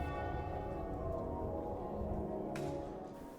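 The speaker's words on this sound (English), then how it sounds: "Midday and the bells ring out at Derby Cathedral to mark the Queen's passing." Church bells ring out at Derby Cathedral at midday, a steady sustained peal of overlapping tones with dense low hum, loud and continuous with no talking.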